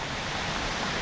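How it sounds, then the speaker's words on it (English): Waterfall pouring right beside a bike path on the Keuka Outlet Trail, a steady, dense broadband rush of falling water that holds constant and fairly loud throughout, with no voices over it. "There's the waterfall right on the bike path."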